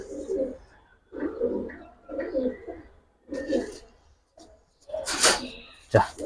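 Giribaz pigeons coo in a series of low, throaty bursts close by, followed by a brief rustle and a sharp knock at the end.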